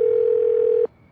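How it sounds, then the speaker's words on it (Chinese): A phone dial tone sounds during a call in the video game Do Not Feed the Monkeys, a single clean steady tone under a second long that cuts off abruptly, with no talk. "那现在我们打个电话给他"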